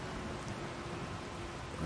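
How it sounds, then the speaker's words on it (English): Rain in the Farming Simulator video game, a steady hiss of falling rain with a low rumble beneath, continuous and even at moderate volume, with no voices. "At least the rain's keeping the tractor clean, I suppose."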